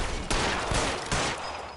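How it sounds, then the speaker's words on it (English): Enemy blind-fire gunshots in the crime game L.A. Noire: several loud, sharp bursts landing in quick succession over a dense, noisy backdrop, each crack followed by a brief fading tail. "damn blind fire, I hate it"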